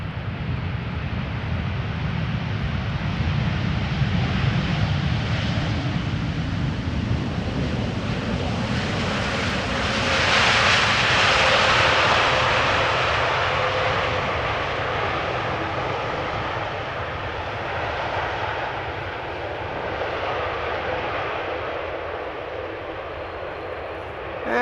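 An airliner lands at Amsterdam Schiphol with its spoilers deploying, making a sustained loud jet-engine roar that swells and brightens midway, then eases into a steady rumble.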